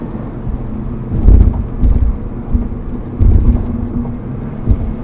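Inside a Subaru BRZ sports car, the engine rumbles and surges in bursts as the driver downshifts, with revs blipping twice amid road and wind noise.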